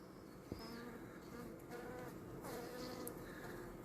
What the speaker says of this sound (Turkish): Ama arı yoğunluğunu görüyorsun.